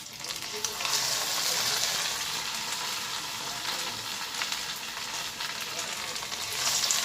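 Urad dal vadas drop into hot oil and fry in a loud, continuous crackling sizzle that holds steady throughout, with faint speech in the background.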